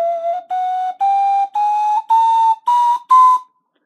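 A Peruvian ocarina plays eight steadily rising notes in quick succession, each a clear, breathy whistle. The tuning sounds slightly odd, the notes are close and loud, and there is no talking.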